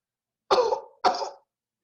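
A storyteller's voice imitates a woman coughing: two rough, throaty coughs about half a second apart, close and fairly loud, with no words around them.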